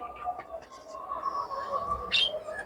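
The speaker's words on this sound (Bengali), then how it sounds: "আর পাখিগুলো কিন্তু কিচিরমিচির ডাকতেছে ভালোই লাগতেছে আমার কাছে খুব" Caged pet birds on a balcony, with light rain falling, chirp and coo softly, and a sharper high call comes near the end over a steady low background.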